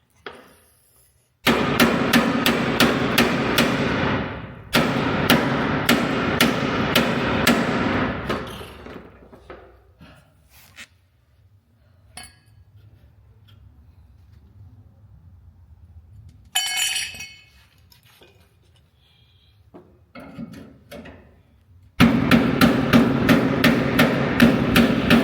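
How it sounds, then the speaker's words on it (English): Hammer blows on a chisel cutting out spot welds on a rusty Ford pickup bed, delivered in two loud bursts of rapid metallic strikes, then sparse scattered taps and clinks, and a final close burst of steady hammering. "now I'm gonna chisel out the spot welds and move forward"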